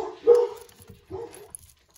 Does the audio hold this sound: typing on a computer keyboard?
no